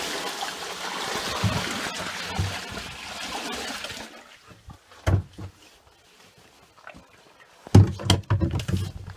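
A bucket of water is whooshed down a blocked cottage drain pipe in a long rushing, gurgling pour that ends abruptly, followed by quieter trickles and a couple of sharp knocks and splashes.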